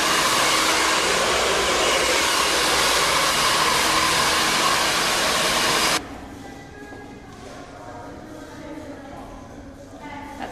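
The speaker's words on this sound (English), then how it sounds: "blast the hair with the hair dryer" A hair dryer blasts steadily and loudly on hair sprayed with styling product during a salon texturizing session, then cuts off abruptly about six seconds in, leaving quieter room noise.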